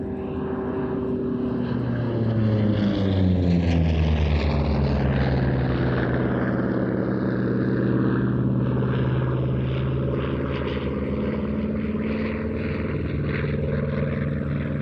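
An F4U Corsair piston propeller fighter flies a display at the ANTIDOTUM Airshow in Leszno. Its loud, continuous engine drone swells and shifts in pitch as the plane passes, with no talk.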